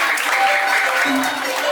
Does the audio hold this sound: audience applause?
yes